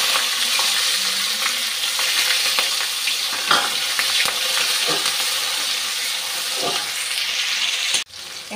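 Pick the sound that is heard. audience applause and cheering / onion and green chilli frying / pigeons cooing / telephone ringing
onion and green chilli frying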